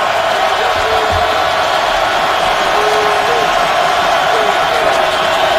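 A dense football stadium crowd roars steadily at an NFL game, Pittsburgh Steelers at Baltimore Ravens, a constant loud wash of cheering and shouting with no pauses.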